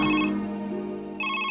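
A phone ringtone chimes loudly in a police station in a Tamil film scene, with a repeating tonal pattern that pauses briefly and then resumes.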